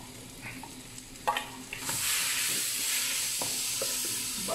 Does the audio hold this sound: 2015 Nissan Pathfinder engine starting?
no